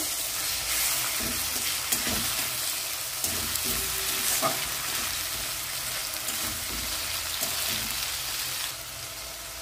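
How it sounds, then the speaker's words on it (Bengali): Onions frying in a pan with ginger garlic paste and chopped tomato for a pomfret fish curry, a steady close sizzle with occasional stirring scrapes throughout, no voices. "এবার আমি 1 টেবিল স্পুন আদা রসুন বাটাটা দিয়ে দেব, আর কুচিয়ে রাখা একটা টমেটো দিয়ে দেব, দিয়ে ভালো করে ভেজে নেব"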